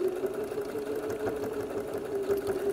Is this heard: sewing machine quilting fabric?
yes